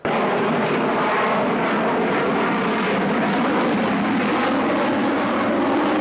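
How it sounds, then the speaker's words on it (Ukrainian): An airliner roars overhead during aerobatic turns at the Dubai Airshow, a loud, continuous broadband jet-engine rush that stays constant throughout with no voices. "На очах потенційних покупців лайнер виконував карколомні розвороти і майже завмирав у повітрі"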